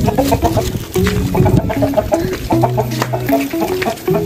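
Chickens cluck repeatedly nearby, several birds overlapping in short, choppy calls with farmyard bustle around them.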